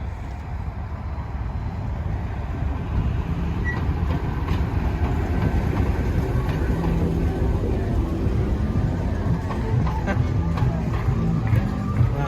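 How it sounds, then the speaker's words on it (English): The Blues Train, a heritage train on a disused old railway line near Swan Bay and Queenscliff, rumbles as it approaches, giving a continuous low, steady roar with a few faint higher tones above it. "I started to hear the sound of a train approaching me on the old train tracks"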